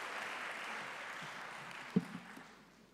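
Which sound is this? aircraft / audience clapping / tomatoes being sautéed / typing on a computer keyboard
audience clapping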